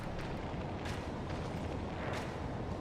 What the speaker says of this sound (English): from right here, it's doing a breath attack